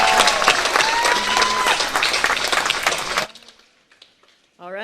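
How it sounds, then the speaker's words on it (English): A crowd at a college graduation ceremony in the Marshall Islands claps loudly and continuously for a few seconds, then the applause cuts off abruptly, leaving near silence before a voice begins. "Let's give them one more round of applause."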